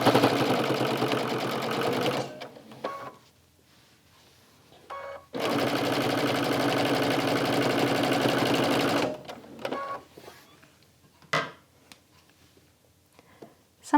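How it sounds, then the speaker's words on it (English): A sewing machine stitches quilt cover strips at a stitch length of 3 in two loud, steady bursts of rapid whirring, with quieter handling sounds and pauses between them. "I'm going to show you my process in how I sew on these cover strips"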